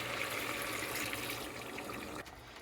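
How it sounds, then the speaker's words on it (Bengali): Hot water is poured into a pan of spiced chicken cooking on the stove, a faint steady gushing stream that cuts off near the end. "এখন আমি মুরগিটা আরেকটু সিদ্ধ করার জন্য গরম পানি অ্যাড করে দেব"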